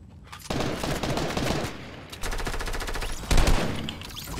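Rapid bursts of P90 submachine gun fire in Fortnite (Chapter 2, Season 3), loud, near and dense, with short gaps between volleys and one heavier blast toward the end, with no talking.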